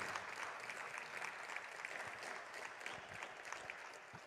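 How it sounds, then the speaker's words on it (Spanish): A church congregation claps at a morning service, with dense, continuous applause holding steady for several seconds and some voices mixed in. "denle un aplauso precioso al Señor en esta mañana"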